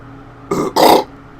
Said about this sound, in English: Bloody hiccups.